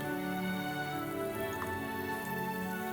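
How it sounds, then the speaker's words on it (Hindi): Continuous crackling and bubbling of corn fritters frying in hot oil, a soft rain-like patter under a steady hum. "जब तलो ना तो ऐसी आवाज आनी चाहिए जैसे बाहर बारिश हो रही है, भीनी भीनी।"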